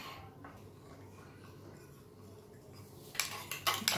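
Edible lace batter being mixed with cornflour in a bowl: a low, steady background until a few sharp scraping and clinking strokes of a utensil against the bowl near the end.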